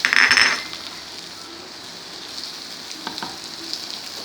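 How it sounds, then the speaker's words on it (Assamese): Jackfruit seeds frying in hot oil with cumin and chilli powder, a loud burst of sizzling at first that settles into a steady, softer crackle with a few faint stirring clicks near the end. "মই কঁঠালৰ গুটিখিনি অলপ ভাজি লৈছোঁ"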